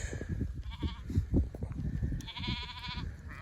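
Sheep in a flock out on Nurhak mountain pasture bleat twice, a shorter wavering call followed by a longer one, close by over rustling and shuffling ground noise.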